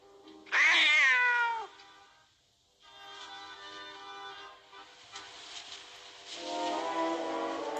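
A cat in the horror film The Tingler lets out one loud, rising-and-falling meow up close, followed by a quiet gap and then a low rumbling bed of train-like noise with scattered clanks.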